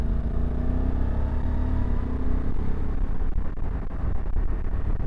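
A 2025 Honda CRF1100 Africa Twin Adventure Sports DCT cruises with a rider and pillion aboard, its engine giving a steady low rumble and drone over constant road and wind noise, with no clear revving.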